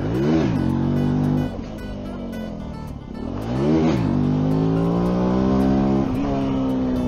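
A Benelli TNT 125 motorcycle revs hard in second gear during a wheelie attempt, engine pitch climbing in repeated rising sweeps with brief drops between, loud and close with wind rush.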